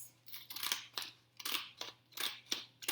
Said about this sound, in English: I'm going to cut a triangle out of my green paper using my fancy scissors